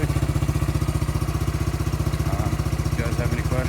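Kawasaki Bayou 300 ATV with a custom build and missing exhaust heat shield, engine running steadily in a fast, even idle-like thump, close and loud, with faint background voices near the end.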